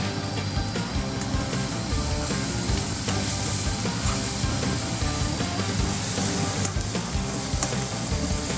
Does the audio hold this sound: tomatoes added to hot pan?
yes